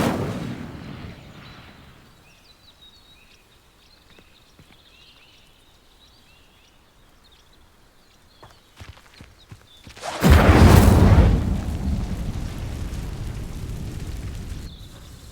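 Incendio fire spell igniting dry vines in Hogwarts Legacy: after a quiet stretch with faint game ambience and light clicks, a sudden loud whooshing burst of flame erupts and then roars on, slowly easing off.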